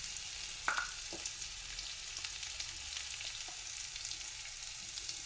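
Spices and a pinch of hing stirred through a frying potato and pea curry in a pan, a soft steady sizzle with a few faint scraping knocks of the spoon.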